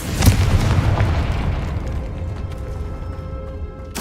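A Confringo explosion spell goes off in Hogwarts Legacy as a sharp, loud boom, followed by a rumbling decay and a second pop at the end.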